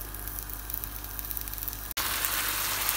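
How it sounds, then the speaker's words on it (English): Fish frying in a pan for curry fish, giving a continuous dense sizzle that cuts out for an instant and then comes back louder and brighter, close and steady with no voices. "I'm like frying it"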